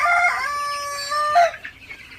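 A broiler chicken gives a single loud, close, drawn-out crowing call lasting over a second, followed by a few faint clucks with no talking.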